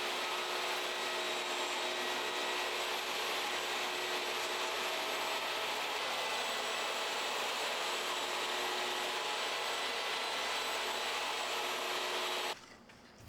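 A power saw rips steadily through the wooden center panel of a Shaker-style cabinet door, a loud, continuous whine that holds for about twelve seconds and then cuts off abruptly.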